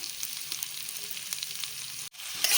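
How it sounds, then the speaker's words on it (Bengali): Potatoes and onions frying together in a pan on a home stove, with a steady, busy sizzle throughout and a brief cutout near the end. No voices are heard. "এই যে আলুটাও আমি এবার ভেজে নিচ্ছি একসাথে ভালো করে"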